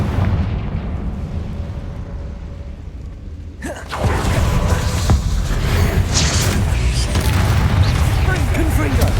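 Explosive Confringo spell blasts in the video game Hogwarts Legacy: a sudden loud burst about a third of the way in gives way to sustained rumbling booms and crackling. A voice is speaking over the combat.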